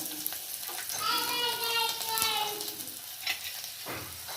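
Garlic sizzles in hot oil in a pan for tomato rasam, a close, continuous crackling fry with brief stirring noises, loudest in the middle and easing toward the end.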